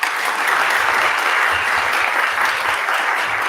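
A summit audience breaks into steady, dense applause filling the room at an even level, with no talking over it.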